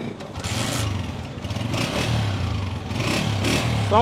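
A 2023 Honda motorcycle engine starts and revs, a steady mid-pitched chug that rises and swells in bursts, close and fairly loud, with faint clatter mixed in.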